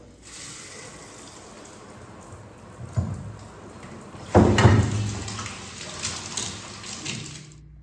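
A hotel bath tap running in a bathroom, a steady hiss of flowing water that surges louder midway as the flow increases, then settles back to a rougher, uneven splashing stream.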